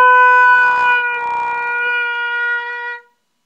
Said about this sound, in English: take that B and bend it and then sustain the really